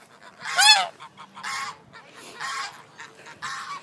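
Geese honking at a park, a loud harsh call near the start followed by several quieter honking bursts at intervals, close by.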